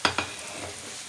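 Chicken chimichangas go into hot frying oil one at a time, with two quick splashy hits followed by a steady, close bubbling sizzle.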